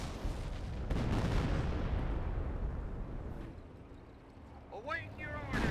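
Artillery barrage in Company of Heroes, a Wehrmacht Wurfrahmen or Hotchkiss rocket half-track volley: a dense rolling rumble of booms and bursts fills the scene, easing off then returning with whistling rocket streaks near the end, under a commentator's voice.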